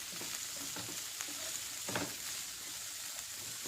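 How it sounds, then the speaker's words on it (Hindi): Two medium chopped onions sizzle in hot ghee in a pan, making a steady, close frying hiss broken by a few soft stirring scrapes, with no talking. "घी गरम हो चुका है। इसमें 2 मीडियम साइज की कटी हुई प्याज डाल देते हैं।"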